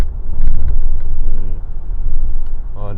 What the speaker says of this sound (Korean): 옵션이 들어간 모델을 타고 있는데 디젤 소음은 어느 정도 들어오긴 합니다